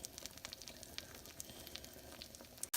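Pancakes frying in a pan on a stovetop, giving a steady soft sizzle with small crackling pops throughout, ending in a brief sharp knock.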